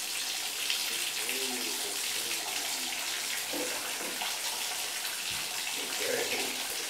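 Water running steadily from a tap while a cat named Nacho is bathed, a constant close rush of water with faint voices and small splashes underneath.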